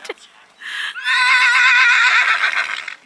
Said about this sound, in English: That's our horses again this year, making all the racket.